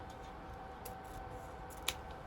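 Scissors make a few faint, crisp snips trimming ribbon tails at an angle for a triple ribbon bow, with one sharper cut standing out over a quiet background hiss.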